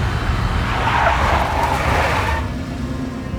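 A big black Mercedes skids in the Max Payne video game, a loud, sustained tire screech with engine roar that eases off slightly toward the end.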